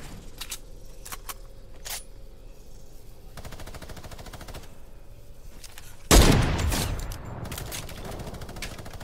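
Minigun fire in a multiplayer shooter video game, a sustained rapid mechanical rattle with an abrupt loud burst of gunfire midway, clustered with sharp shots over steady background game noise.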